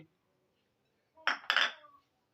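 A utensil clinks twice against a bowl while cornflour batter is mixed for potato chips, two short close metallic taps after a quiet pause.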